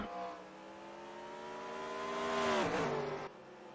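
A race car's engine in a racing video game revs hard close by, its whine climbing steadily in pitch before dropping suddenly as it shifts, with no talking.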